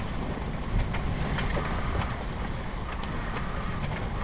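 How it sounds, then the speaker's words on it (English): Steady wind roars over an Island Packet 31 sailboat on Lake Michigan, with building seas sloshing and washing against the hull in a continuous broadband rush. "The seas are building a little bit from this wind."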